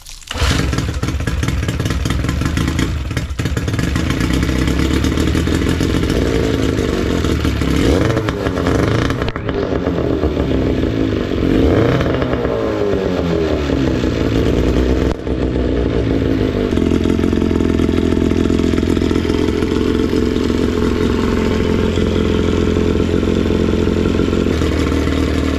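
An outboard motor runs loud and continuous after a fuel pump repair, a steady engine drone with some clattering and shifts in revs throughout.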